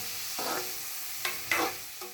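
Onions sautéing in a pan on low flame until golden for mango chicken, a quiet steady sizzle broken by a few short scraping stirs, close and moderately soft, with no talking.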